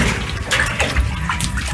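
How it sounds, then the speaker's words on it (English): Water spraying and splashing over the aluminum hull of a pontoon boat as it is rinsed off, a steady broadband wash with uneven surges across the short stretch, fairly close and with no talk. "Alright, rinse it off."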